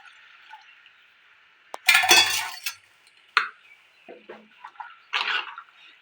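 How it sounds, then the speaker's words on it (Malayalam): Short splashy pours of water into a pot of chicken curry, a couple of quick gushes with clinks and pauses between them. "നമുക്ക് ലാസ്റ്റ് കുറച്ച് വെള്ളം ഒഴിച്ചു കൊടുക്കാം."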